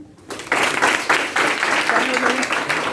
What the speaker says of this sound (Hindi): अच्छा आंसर है, ताली बजाइए